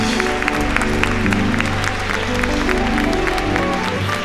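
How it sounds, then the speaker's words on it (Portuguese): A church congregation claps during a worship service, the applause blended with loud sustained music and continuing steadily for several seconds. "Agora aplauda Jesus com muito gosto, com muita vontade."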